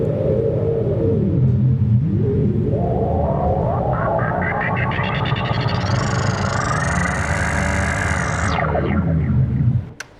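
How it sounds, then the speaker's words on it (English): A dense synthesizer noise patch roars steadily while its filter sweeps slowly upward to a bright hiss, then drops sharply before cutting off. "Set it for a noise patch, but it's moving the frequency, filter frequency around."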